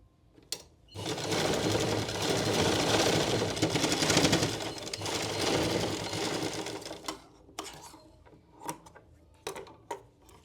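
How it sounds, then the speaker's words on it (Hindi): A sewing machine runs a continuous stitch along a blouse sleeve for several seconds, then stops, followed by a few sharp clicks and knocks. "एक सिलाई और लगाएंगे।"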